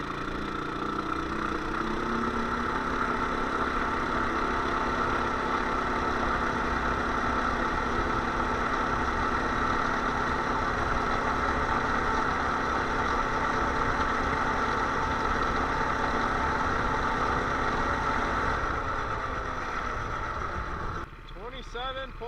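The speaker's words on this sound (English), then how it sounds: "Now top speed with the mini bike." A mini bike's small engine with stock muffler roaring steadily at high revs at top speed for a long stretch, loud and close, dropping off briefly near the end.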